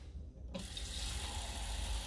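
Tap water running into a cup, a steady broadband rush that starts abruptly after a brief quiet moment and continues close and fairly loud.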